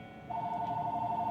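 A telephone rings with a steady electronic tone that starts partway in and holds continuously, moderately loud in a quiet room.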